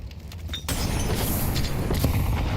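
Grenade blast in Counter-Strike on Banana during a major match: an abrupt loud boom after quiet, followed by a rumbling, crackling tail.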